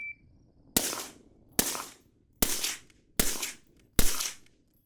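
Five suppressed rifle shots are fired through a conventionally made, higher back pressure suppressor. Each is a sharp, loud crack with a brief decaying tail, spaced evenly about a second apart, with no voices.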